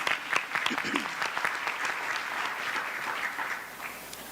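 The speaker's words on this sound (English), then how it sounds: "Let's give her a round of applause" Audience applauding a school principal at a news program, a full, even round of many hands clapping with a few sharper claps standing out early, continuing for several seconds.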